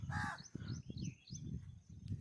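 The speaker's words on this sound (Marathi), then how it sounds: "न थू कावडा बोंबलू राहिला मले पाहून" A crow caws repeatedly outdoors, its harsh calls coming through faintly over low rumbling background noise, with other small bird chirps mixed in.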